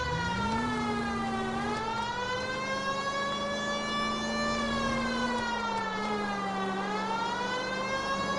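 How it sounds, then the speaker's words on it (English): A wailing 1940s-style police car siren from the video game L.A. Noire, rising and falling in slow sweeping cycles, loud and continuous throughout with no talk over it. "Okay, let's put the siren on."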